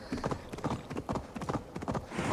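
Horse hooves clip-clop in a steady trot in Assassin's Creed Valhalla, with repeated rhythmic hoofbeats that are close and fairly loud and carry throughout.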